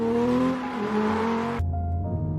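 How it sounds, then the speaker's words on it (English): A car engine hums with steady tonal drone and shifting pitch as the car pulls out onto a road at night, the sound cutting abruptly to a lower, duller engine tone partway through. "I pulled out of the driveway and onto the main road."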